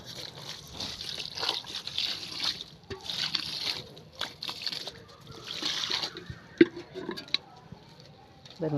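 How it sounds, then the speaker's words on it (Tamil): Water splashes and sloshes in uneven bursts, with drips and wet squishing between pours, close by and fairly quiet. "இதுக்கு தண்ணி ஊற்றுவோம்"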